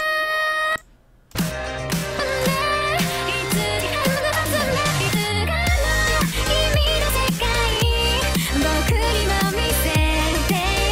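Electronic dance track with a pounding four-on-the-floor beat and deep bass, briefly cutting out near the start before the extended drop runs on for 16 more counts, loud and continuous with no talking.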